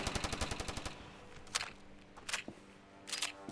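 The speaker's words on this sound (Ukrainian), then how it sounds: "Зараз візьму пістолі. Розстріляю всіх." Rapid pistol gunfire in the mobile shooter Standoff: a fast burst of about a dozen shots in the first second, then three separated single bursts of sharp cracks, with no talk over them.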